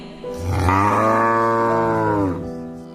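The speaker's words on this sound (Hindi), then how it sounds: "जब कपिला को दूध देने का समय होता है, वो इसी तरह रंभाती है।" A cow lets out a single long, loud moo close by, rising and then holding steady before trailing off.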